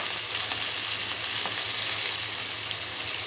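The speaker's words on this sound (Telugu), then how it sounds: "ఆనియన్, పచ్చిమిర్చి, కరివేపాకు వేసేస్తున్నాను." Onion, green chilli and curry leaves frying in hot oil in a pan, a close, steady crackling sizzle with faint pops and no talk.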